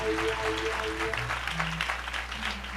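A church congregation applauds during a French-language worship service, with steady, dense clapping continuing throughout and sustained musical tones underneath.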